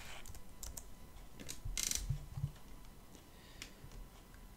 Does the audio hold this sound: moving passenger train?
no